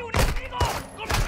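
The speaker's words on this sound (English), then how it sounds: "Gunfire alerted them." Gunfire in the video game Call of Duty: Modern Warfare 2: three close, loud bursts of shots in quick succession, each with a sharp crack and a brief rumbling tail.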